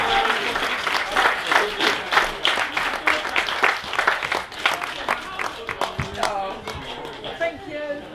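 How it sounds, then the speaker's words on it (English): Wedding guests applauding, a lively burst of hand clapping from a room of people, loud and close, with voices talking and cheering over it as the clapping tapers off. "Have a round of applause if you want."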